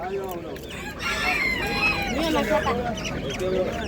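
Japanese-breed chickens cluck busily while a rooster crows at a poultry sale in Namangan, the calls overlapping and fairly close, with people's voices mixed in among the birds.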